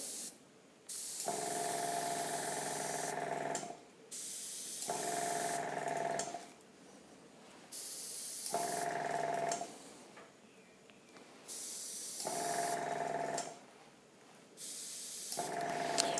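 An airbrush sprays paint finely around an edge in five separate hissing bursts, each a few seconds long, close and steady with short quiet gaps between.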